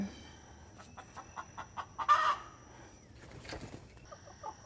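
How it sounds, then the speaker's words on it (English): A stressed hen in a garden setting clucks in a rapid series of short, fairly close calls, rising to a louder squawk midway, then a few more clucks with no talk. "I'm gonna try to wrangle this chicken back into the chicken coop because she seems a little stressed"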